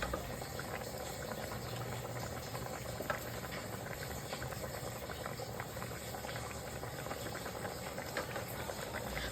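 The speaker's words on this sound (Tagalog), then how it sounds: "Pakuluan lang din natin sila ng ilang minuto" Salmon heads simmering in sinigang na miso broth, a steady, close, dense bubbling and hissing boil that keeps going without pause, with no one talking.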